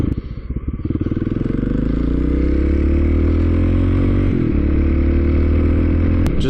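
A Kawasaki KLX 250 motorcycle with a big bore kit and stock jetting accelerates hard, its engine climbing from a choppy idle to a loud rising roar, dipping briefly at a gear change before pulling again up close.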